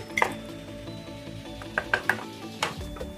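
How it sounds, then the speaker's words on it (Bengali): Prawn curry in a pan is stirred as yogurt goes in, giving a quiet background hiss broken by several sharp clinks and scrapes of utensil against pan. "আর দিয়েই ফটফট করে নাড়াতে হবে"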